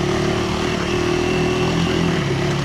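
A KTM Adventure 390 motorcycle engine drones loud and close under steady throttle as the bike climbs a small dirt mound off-road, a continuous buzzing note with slight pitch wobbles.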